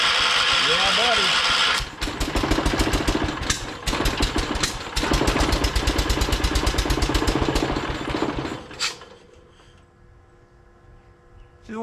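A John Deere 212 garden tractor engine cranks and catches, settling into a loud, rough, rapid pulsing run that runs unevenly for several seconds before it drops away to a quieter idle near the end.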